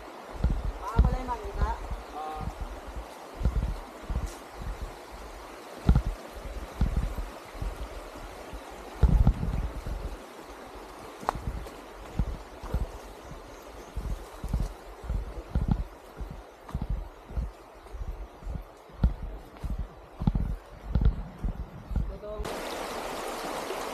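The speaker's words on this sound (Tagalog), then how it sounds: "naririnig na natin yung lagaslas ng waterfalls" Rushing water of the Caihulo waterfalls and river, a steady broadband roar that continues under frequent knocks and thumps, with voices speaking at times.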